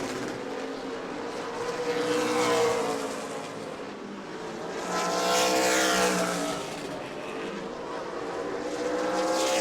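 Super Late Model race cars racing at New Smyrna during a Sunbelt Series Super Late 100 event, engines screaming with high whines that swell and fade as cars sweep past one after another, loud and continuous.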